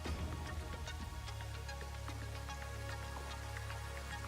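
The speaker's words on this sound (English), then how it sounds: "oh, it's raining again" Steady rain in the video game Satisfactory: faint, continuous patter of droplets ticking on surfaces over a low constant hum, with no talk.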